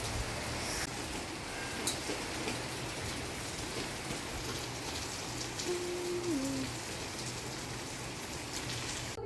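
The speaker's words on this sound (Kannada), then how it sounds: "ನೋಡಿ ಮಳೆ ಹೆಚ್ಚೋರು ಬರ್ತಿದೆ." Heavy rain pours down in a steady, even hiss that stays constant throughout, with no voices or other sounds standing out.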